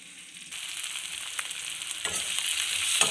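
Onions sautéing in a pan for a spinach and Mysore dal kadaiyal, a steady crackling sizzle that starts softly, jumps louder after half a second and swells again toward the end, with no voices.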